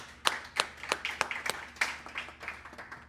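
Nearby hands clapping in a loose, steady rhythm, sharp individual claps rather than a large crowd, fading slightly toward the end.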